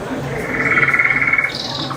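Toads croaking at night, one loud nearby call rising into a rapid pulsing trill that lasts about a second, with softer chirps and faint background calls around it.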